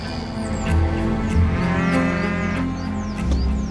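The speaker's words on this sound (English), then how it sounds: "one of Britain's oldest native breeds, pure Highland cattle" Pure Highland cattle, an old native British breed, moo on a farm in a long, low, loud call, with birdsong chirping and outdoor ambience around it.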